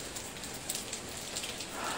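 Steady rain falls and patters on surfaces in the hillside streets of Jiufen, Taiwan, making a constant close hiss with a few scattered drip taps.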